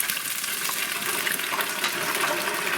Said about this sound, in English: Let's get these chippies and dim sims out of the fryer.